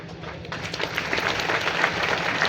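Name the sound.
audience applause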